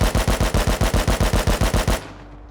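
An AK rifle in the game Rust fires a rapid burst of about a dozen loud, sharp shots in even rhythm, then stops and leaves a short ringing tail.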